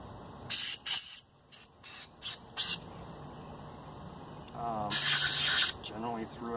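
Short bursts of cleaner spray hiss into a Honda Ruckus scooter carburetor, several quick sprays followed by a longer one, close up, with a faint squeak and a few soft spoken words between them.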